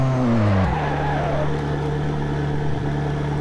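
A modded car in the Test Drive Unlimited 2 racing game revs down sharply, then settles into a steady, loud engine drone that holds through the rest of the stretch.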